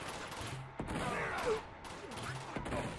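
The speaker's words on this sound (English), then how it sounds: "Where is more shots coming from?" Gunfire in the action game Uncharted 2 during a siege, bursts of shots crackling over a busy background with a faint voice in places.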